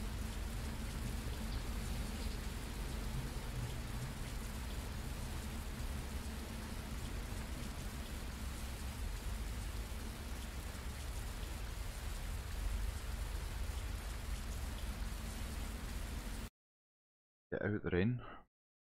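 Steady heavy rain pours down in a constant hiss close by outside a hotel, with a brief silence near the end followed by a short burst of voice.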